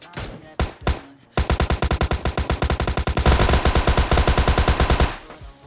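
Thompson submachine gun in a video game firing a few single shots, then a long sustained automatic burst of rapid, loud, evenly spaced rounds lasting about four seconds before cutting off.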